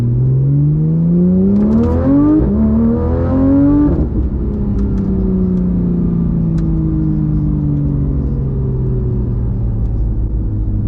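A Porsche 911 GT3 RS in PDK Sport mode pulls hard through the gears, its engine note climbing steeply in pitch, then it settles into a loud, sustained droning rumble as it keeps running close by.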